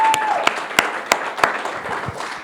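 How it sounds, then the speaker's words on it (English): An audience applauds at an artist talk, with scattered sharp claps standing out over a steady wash of clapping across the whole stretch. "Can we give a round of applause for real,"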